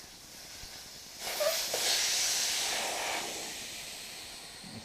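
Air hisses out of a tire valve stem after its Schrader core is removed: a sudden broadband rush starting about a second in, loudest early and then slowly tapering while it stays steady, alone and close.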